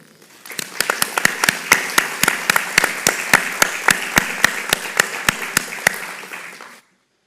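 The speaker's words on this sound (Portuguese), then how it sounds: "Uma salva de palmas," An audience at a literary gathering claps in a strong, regular rhythm for several seconds, close and loud, then stops abruptly and falls silent.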